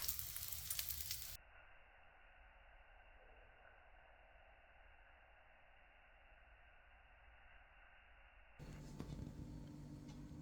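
Ricotta pancakes cooking in a frying pan give a faint, even sizzle, with louder clatter at the start and end and no voices.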